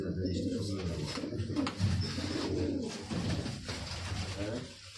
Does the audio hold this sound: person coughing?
no